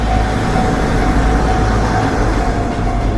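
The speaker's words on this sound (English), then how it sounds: "the train chugging along rhythmically like windshield wipers slapping time on a rainy day" A train rolls along with a loud, steady, unbroken rumble that fills the whole stretch, with no voices.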